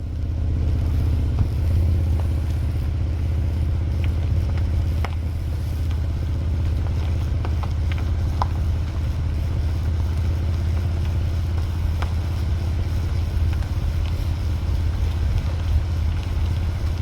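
A car driving toward a forest location, heard from inside as a steady, loud low rumble of engine and road noise that holds constant throughout.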